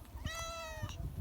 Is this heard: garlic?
no